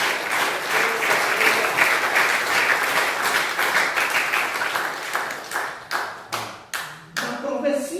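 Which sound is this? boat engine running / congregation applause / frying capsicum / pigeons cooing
congregation applause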